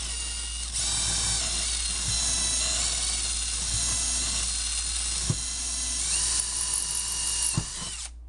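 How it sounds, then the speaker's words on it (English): A power drill pre-drills screw holes in wooden subfloor, whining steadily and loudly for about seven seconds, with brief clicks and small shifts in pitch as the bit works through the wood. "pre-drill your holes before you screw in"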